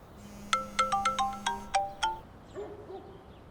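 A mobile phone ringtone plays a bright repeating melody of short electronic tones, clear and fairly loud, then stops, with no talking over it.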